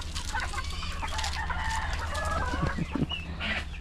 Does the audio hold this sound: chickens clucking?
yes